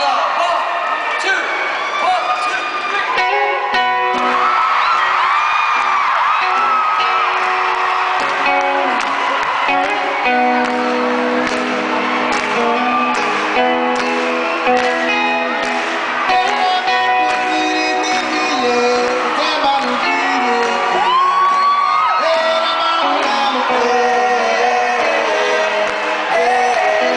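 A concert crowd screams and cheers in unison at a live performance, a loud, dense and continuous roar of voices lasting throughout, mixed with music and a performer speaking.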